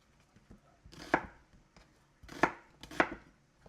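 Rough chopping of garlic, peppers and onions on a board for a chicken pepperpot, a few sharp knife thuds spaced apart, close and fairly quiet.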